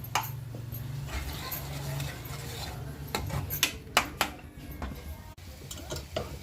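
Masala spices sautéing in oil in a pan, a low sizzle beneath clinks and scrapes of a spoon against the pot, with several sharper knocks toward the end.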